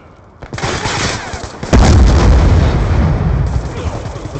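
A frag grenade blast in a first-person shooter game lands as a sudden loud boom, followed by sustained heavy rumbling gunfire and explosive noise that continues to the end.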